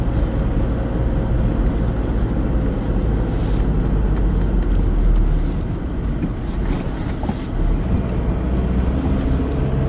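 A car drives through a small town in Loches, France, producing a loud, steady cabin rumble of road and engine noise with wind buffeting throughout and no voices.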